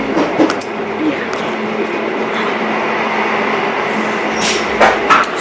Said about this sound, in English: I just got on the train